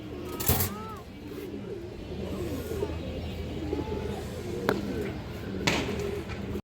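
Soft cooing from female Kaldam high-flyer pigeons: low, rolling calls repeated over a steady murmur of nearby birds, with a couple of sharp knocks.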